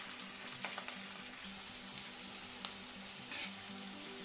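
Onions fry in a pan until browned, giving a steady soft sizzle with occasional light pops and stirring scrapes, heard close and quiet with no talk.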